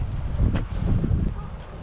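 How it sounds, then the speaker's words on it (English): Gusty wind buffets the microphone at the Lyre River DNR campground on the Washington coast, a steady low rumble with brief swells and no speech. "It's windy and I forgot my other microphone."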